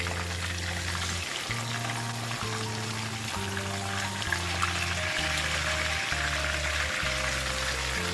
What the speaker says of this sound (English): The fish pieces have been frying for 2 minutes on a medium flame.